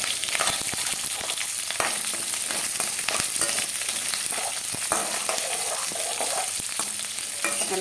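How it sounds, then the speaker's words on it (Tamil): Shallots and green chillies sauté in hot oil for Tirunelveli idi sambar, a steady close sizzle and crackle with occasional stirring scrapes throughout. "அதையும் போட்டு நல்லா வதக்கி வைக்கலாம்"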